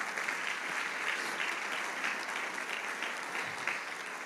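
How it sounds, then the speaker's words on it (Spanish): A church congregation applauds, a dense, even wash of clapping from many hands that carries on steadily, fairly distant and moderately loud with no voices. "¿Le puedes dar un fuerte aplauso al Señor Jesús?"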